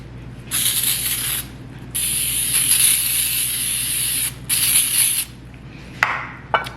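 Several long hissing bursts of cooking oil spray, close by, separated by brief pauses, ending with a couple of short sharp spritzes.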